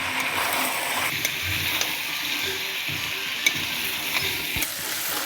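Chopped tomatoes fry with meat and potatoes in a pan, making a continuous bright sizzle with occasional soft stirring knocks and clicks, steady and close.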